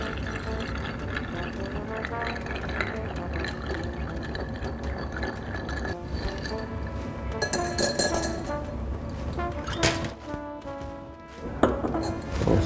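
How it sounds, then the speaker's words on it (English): Ice clinking and rattling in a glass mixing glass as a Creole cocktail with rye whiskey is stirred, a busy continuous jangle with brighter bursts and faint background noise. "Ice to a mixing glass, and then we're going to stir almost 57 times."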